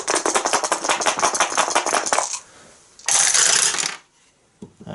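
Handful of dice rolled during an Eldritch Horror board game, a dense run of rapid clattering rattles for about two seconds, then a second shorter burst of clicking tumbles, close and loud with no talking.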